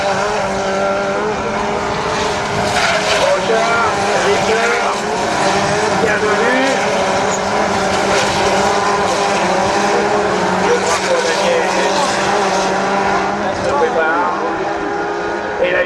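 Rallycross race cars roar continuously around the circuit at Lessay, a dense, loud engine drone with occasional revving surges, under steady commentator speech.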